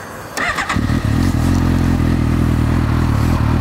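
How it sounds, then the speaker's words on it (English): A 2015 Suzuki GSX-S750 motorcycle engine cranks with a few clattery bursts, then catches and settles into a loud, steady, throaty idle close to the microphone. "I'm sure you guys want to hear that throaty startup, so we'll go ahead and start it up"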